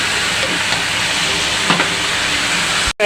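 Stuffing seasoned with turmeric and salt fries in a pan for potol dolma, giving a steady, close, broadband sizzle that carries on unbroken and then cuts out abruptly near the end.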